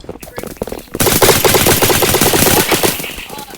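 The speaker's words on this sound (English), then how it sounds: "Stop shooting, Kate." Rapid bursts of video-game gunfire in an airsoft battle game, loud and sustained automatic fire with shouted voices at the start.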